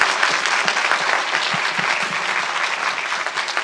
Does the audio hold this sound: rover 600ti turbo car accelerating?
no